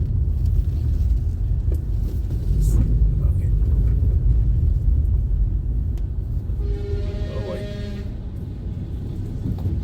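A 2013 Ford EcoSport automatic with a petrol engine drives over a rough, broken road, giving a steady low rumble of engine and tyre noise with faint knocks, fairly loud and continuous.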